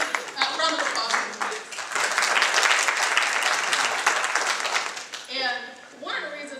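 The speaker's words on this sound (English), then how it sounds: "Thank you. Round of applause." A community audience at an NAACP election candidates event claps warmly after the three candidates speak, dense sustained applause swelling through the middle, with brief bits of speech at the start and end.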